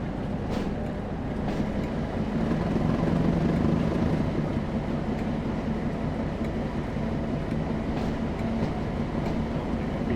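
A Class 08 diesel shunting locomotive in the game Train Sim World at Blackpool North rumbles steadily with a low, droning engine and faint rail clatter. No one speaks.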